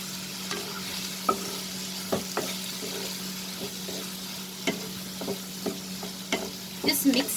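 A spatula stirs prawn keema in a hot pan, a constant close sizzle of frying under irregular scraping and tapping strokes that grow busier near the end.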